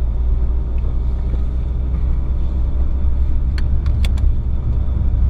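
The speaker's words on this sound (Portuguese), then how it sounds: "Acabei de ligar o carro." A Fiat Uno Turbo 1.4 i.e. engine idles steadily just after a cold start, a continuous low rumble with a few faint ticks and clicks near the end, no talking.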